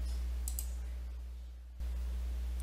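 A few quick mouse clicks on a Save and Display button, sharp and close over a low steady hum, followed by quiet.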